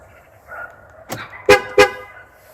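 A Ford's alarm system gives two short, loud horn chirps in quick succession after a fainter clunk, signalling on locking that a door is still open.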